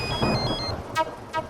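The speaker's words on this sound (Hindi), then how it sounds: "आपका फोन बज रहा है।" Phone ringtone in a home setting, two short bright electronic ring bursts near the end following a stretch of muffled background sound.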